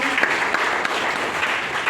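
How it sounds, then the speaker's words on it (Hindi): Steady crowd applause at a large seminar in Doha, Qatar fills the space, a dense wash of many hands clapping at once with no pauses. "अशोक सर के लिए जोरदार ताली।"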